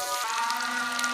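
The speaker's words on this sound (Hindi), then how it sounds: "मक्खन हमने डाल दिया है, तो ये हमारा घर का मक्खन था, तो थोड़ी सी ये जाग सी बन रही है, तो इसे हम अच्छे से फ्राई करेंगे।" Homemade butter fries on a tawa pan with a steady, close sizzle that holds evenly throughout the brief moment, with no voices.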